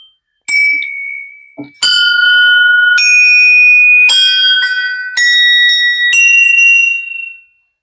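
Temple bells at the Siddh Baba Goriya temple are struck six times in succession, each one a different pitch. The strikes come loud and close, and each bright metallic ring hangs on until the next strike.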